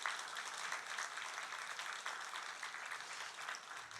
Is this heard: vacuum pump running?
no